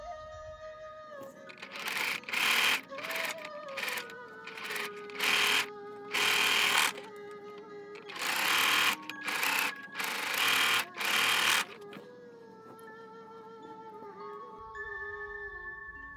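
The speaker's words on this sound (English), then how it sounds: "So head to our sewing machine now." Sewing machine stitching backing fabric for a bunny face mask, running in a series of short, loud bursts with brief pauses between, close and alone with no talking.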